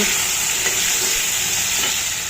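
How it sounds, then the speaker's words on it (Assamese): Taro pieces with a little turmeric sizzle steadily in hot oil in a pan, a close, even hiss with no talk. "ভাজি ল'ম কচু কেইডোখৰ"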